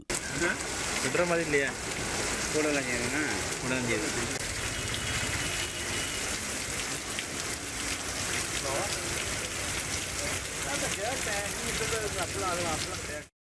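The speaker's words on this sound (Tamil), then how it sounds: "இடி மின்னலுடன் கூடிய பலத்த மழை பெய்தது." Heavy rain pours steadily during a thunderstorm in Tamil Nadu, a dense continuous downpour hiss with water gushing, loud and unbroken; a voice speaks faintly underneath.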